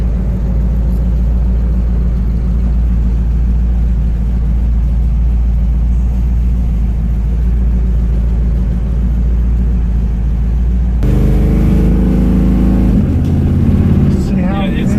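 A 1957 Chevy Bel Air engine running with a rough, steady idle rumble, then revving noticeably higher near the end, running loud and close.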